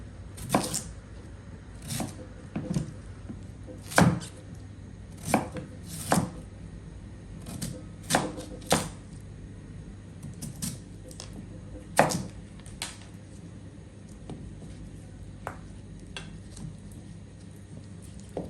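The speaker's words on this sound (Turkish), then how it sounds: "Soymuş olduğum pancarları şimdi doğruyorum." A knife chops peeled beets on a cutting board, a dozen or more sharp, close knocks at an uneven, unhurried pace.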